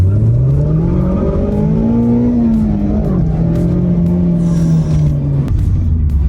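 A Formula 4 race car with a manual gearbox drives loud and close, its engine note rising and falling steadily through gear changes in a continuous droning roar.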